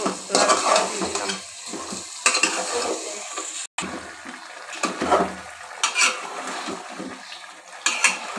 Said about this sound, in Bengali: এখন মাংসগুলো দিয়ে দিব। ভালো করে একটু নাড়াচাড়া দিয়ে দিলাম।